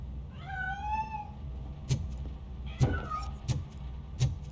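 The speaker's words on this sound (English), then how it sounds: "That cat must be hiding inside." A cat meows in the RoboCop: Rogue City video game, one drawn-out rising and falling meow near the start, with a shorter meow later over a low game ambience and a few soft thumps.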